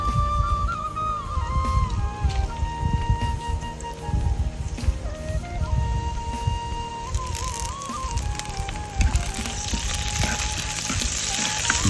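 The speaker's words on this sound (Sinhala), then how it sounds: "3-5 ලූණු රම්පි කරපිංචා තව වේලිච්ච මිරිස් කරල් කීපයක් මේ විදියට තෙලිය දාලා රත් කරගන්නවා" Onions, rampe, curry leaves and a few dried chillies fry in hot oil, giving a steady sizzle and crackle that grows brighter and denser toward the end, heard alone without talk.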